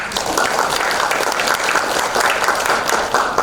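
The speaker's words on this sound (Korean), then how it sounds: "우리 박수 한번 칩시다" Crowd applause during a Korean political speech, a short burst of dense, steady clapping from many hands filling the whole moment.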